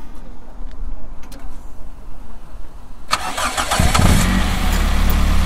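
A Toyota Corolla 70-series with a 4A-G engine starts up after a few seconds of quiet background, then runs loud and close with a strong intake roar that swells toward the end.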